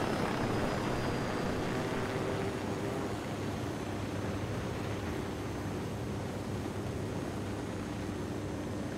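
A helicopter flying in the video game Ghost Recon Wildlands, heard as a steady, moderately loud rotor and engine drone that holds unbroken throughout, with no voices over it.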